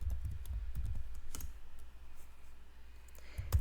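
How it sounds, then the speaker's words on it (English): Rapid clicks of a computer keyboard as a password is typed at a Linux command prompt, with irregular keystrokes close up and a louder burst near the end. "then type in the password that you want and confirm it"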